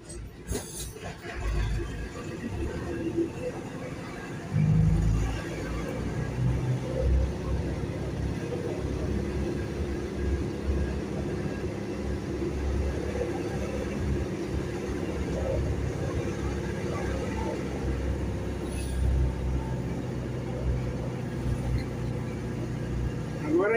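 A truck rolls through city streets on its way to load mineral water, its engine a steady, close low rumble with road noise that swells briefly around the fifth second and otherwise holds constant.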